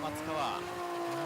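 A drift car in competition at Tsukuba revs up through the gears, a high whining engine note rising in pitch over a brief burst, heard from a distance with a commentator talking over it.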